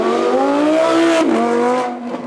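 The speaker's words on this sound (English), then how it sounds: "First up then, the first of our V10 powers, which is our Audi R8." An Audi R8 V10 supercar at a supercar weekend event roars past, its engine note rising as it approaches, then dropping in pitch and fading as it moves away, loud and alone.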